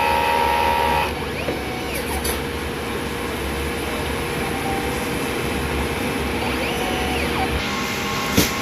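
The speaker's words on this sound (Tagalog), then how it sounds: "Ito naman po yung aming printer Rederia." A DTF printer running a head-clean cycle, giving a continuous mechanical whirr and pump drone with a few brief higher whines and a small click near the end, no talking.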